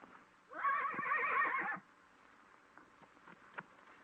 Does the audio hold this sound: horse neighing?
yes